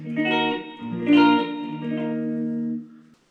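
Clean electric guitar played through a Yamaha THR5 amp with a touch of the amp's own reverb and no other effects: a few sustained, ringing chords that fade out, heard alone.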